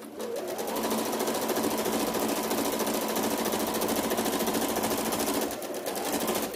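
A sewing machine stitches the nose seam of a T-shirt fabric face mask, running in one fast, even, rattling burr for about five seconds, pausing briefly, then starting again, close and loud.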